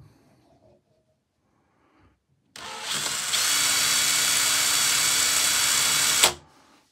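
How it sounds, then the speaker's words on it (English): A DeWalt DCD-800 XR cordless drill driver spins up after a quiet pause and runs steadily at high speed for about four seconds, loud and close, then stops abruptly. "the brand new XR drill driver."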